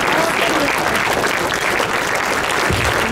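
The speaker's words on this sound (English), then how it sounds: "Kindly join me in welcoming Bishop Eaton with a round of applause" A large audience at a convention applauds to welcome Bishop Eaton with a dense, loud, continuous wash of clapping that holds steady throughout with no talk over it.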